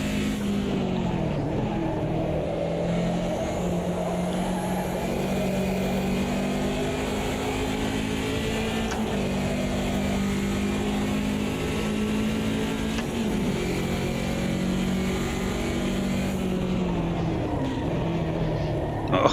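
Race cars in the sim racing game Automobilista 2 during a multiclass race including Corvettes, engines droning and shifting pitch through gear changes as cars lap together, a constant layered roar without pause.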